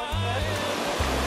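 Steady rushing roar of a waterfall at an elephant sanctuary in Cambodia, broad and continuous, with a low rumble pulsing underneath.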